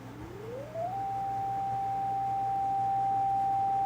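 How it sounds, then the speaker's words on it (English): An electronic sine tone from a bank of eight sine-wave oscillators glides smoothly upward in pitch, then holds one steady pure note, over a low constant hum. "I have 8 different oscillators that are making a sine wave sound"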